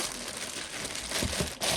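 A cup is unwrapped from a plastic bag, with continuous close crinkling and rustling of plastic that grows louder toward the end, and no voices.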